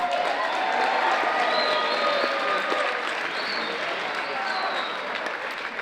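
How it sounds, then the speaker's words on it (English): A gymnasium crowd at a men's college volleyball match applauds loudly and continuously, with some cheering mixed into the dense clapping. "Please give a round of applause to Fletcher Like."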